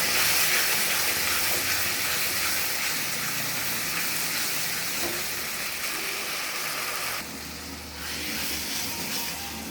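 Water poured into frying spices for chili chicken, a steady hissing gush and sizzle lasting several seconds with a brief dip before it resumes, no talking.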